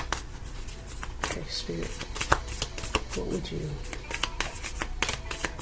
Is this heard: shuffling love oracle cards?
yes